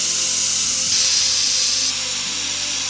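Steam hisses steadily from a pressure cooker holding rice and chilies, a loud, close, continuous high rush that swells slightly around the middle and runs for about three seconds with no talk.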